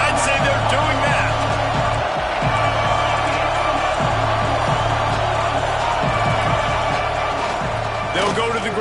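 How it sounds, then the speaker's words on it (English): A stadium crowd at a USC vs Florida college football game keeps up a dense, continuous roar of cheering throughout. A commentator talks over the noise. "Challenge this crowd to bring the energy, and I'd say they're doing that."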